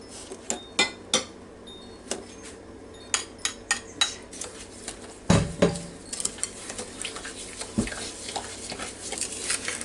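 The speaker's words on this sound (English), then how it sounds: "Beat the butter and the sugar until creamy." Butter and sugar being beaten together in a bowl for a lemon cornmeal cake, heard as a steady series of clinks and scrapes of a utensil against the bowl, fairly close and with no talking.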